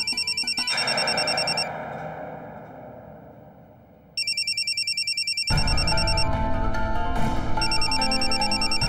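A telephone rings with a loud, rapid trilling electronic pattern that repeats, pauses briefly, then resumes over a louder background hum.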